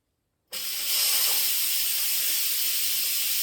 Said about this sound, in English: There's going to be a lot of steam because this just finished cooking